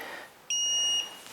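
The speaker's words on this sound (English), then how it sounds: "Now, you get the 2 beeps." Swansoft electric pruner powering on with a clear electronic beep tone, sounding once as a steady half-second high-pitched note, close and loud against a quiet room.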